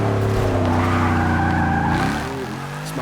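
Dodge Challenger Hellcat with 707 horsepower sliding sideways through a track corner, tires squealing loudly and continuously over a steady engine drone that eases off near the end.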